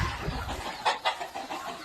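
Free-range village hens on a small poultry farm, clucking in short bursts at close range over a soft, steady background, with no one speaking.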